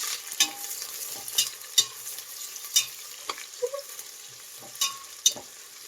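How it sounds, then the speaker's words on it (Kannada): Onions sizzle in a pan for tomato pulao, with repeated spatula stirs and scrapes sounding at an irregular rhythm over a soft, steady frying hiss, heard close with no talking. "ಈರುಳ್ಳಿನ ಫ್ರೈ ಮಾಡಿ."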